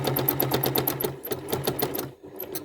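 A sewing machine runs rapid locking stitches on a quilt block, a fast, even chatter of needle strokes that slows and briefly pauses before a few final stitches, heard close up.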